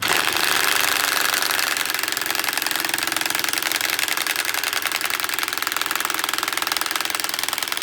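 An impact wrench hammers continuously at close range on a vintage British motorcycle, giving a dense, rapid rattling buzz that holds steady for several seconds with no talking.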